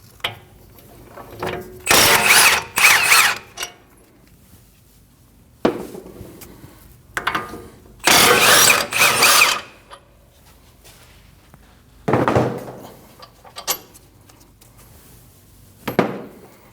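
A power tool removes two 24mm brake caliper bolts from the steering knuckle of a 2012-2021 Nissan NV2500 van, with several loud bursts of whirring rattle separated by pauses and metallic clinks, no talk.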